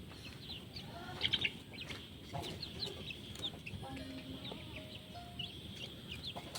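Farm chickens cluck and call intermittently outdoors, a few sharper squawks early on, with faint ambient noise and scattered bird sounds around them.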